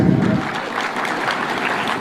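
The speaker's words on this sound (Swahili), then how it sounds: "Tumpigie makofi Bwana Speaker." A crowd at a devolution conference in Homa Bay, Kenya, applauds the Speaker. The clapping is loud and dense and fills the whole brief moment.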